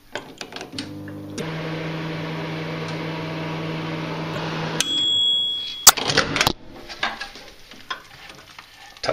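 A microwave oven hums steadily for a few seconds, then beeps several times as the door clicks and rattles open.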